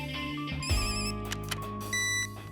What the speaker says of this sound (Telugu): లడ్డూ సింగ్ హెడ్ క్వార్టర్స్ నుంచి ఫోన్ చేశారు.